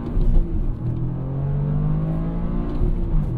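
Toyota GR Corolla engine pulling hard in a steady, loud accelerating drone with rising pitch, heard from inside the car as it runs up through the gears.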